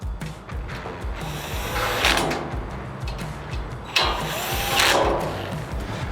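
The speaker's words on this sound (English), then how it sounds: "we'll go ahead and tighten those up" Screws being tightened on the bottom cart of a Monument Grills Mesa 425 gas grill during assembly, heard as close, rapid clicking ratchet turns in two main bursts, with no talking.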